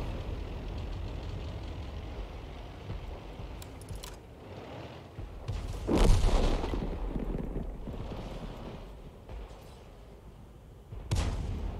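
A Grille self-propelled gun fires in World of Tanks, with a loud blast at mid-clip and another sharp shot near the end over a steady engine rumble.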